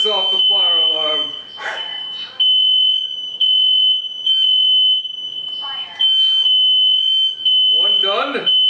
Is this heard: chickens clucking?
no